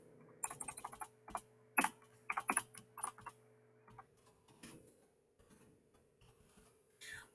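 Typing on a computer keyboard, quiet and close, with irregular clusters of keystrokes and short pauses, fading to near silence before a final few taps.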